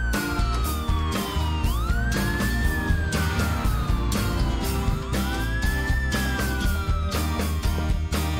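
Wailing ambulance-style siren rising and falling in long sweeps over a steady loud musical backing, continuous and prominent throughout.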